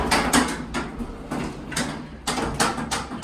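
A 1969 Otis Lexan hydraulic elevator with a 3,500-pound capacity, in a shopping mall, runs its mechanism with rhythmic clunks and sliding, whooshing bursts over a low motor rumble. It is close and fairly loud, with no voices.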